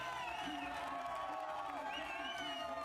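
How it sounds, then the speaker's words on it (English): Crowd at the IRONMAN Vitoria-Gasteiz race finish cheers and whoops continuously, a dense lively roar with shouts rising over it and a commentator's voice partly mixed in. "with the energy of this amazing crowd"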